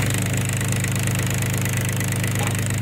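The engine of a 2012 Ditch Witch JT5 drill runs loud and close, holding a steady, even drone from start to finish with no talk over it.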